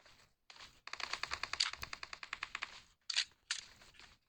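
Rapid bursts of gunfire in the mobile battle royale game PUBG Mobile, a run of about a dozen evenly spaced shots followed by a pause and two or three more sharp reports.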